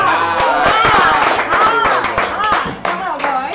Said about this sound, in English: Please give a round of applause for Ebony